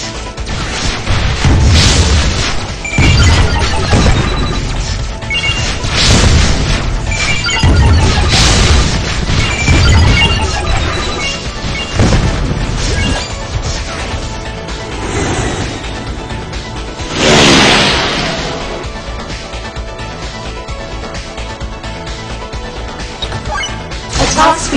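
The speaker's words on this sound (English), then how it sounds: "Frozen rocket." Repeated loud booming crashes and smashing impacts of frozen rocket explosions in the mobile shooter WinWing, dense and continuous over layered game effects and music, with heavy bursts at irregular intervals.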